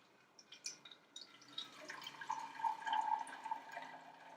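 Homemade almond milk pours into a nut cloth filter, then trickles and drips steadily into a container, faint and close, growing denser as the stream settles.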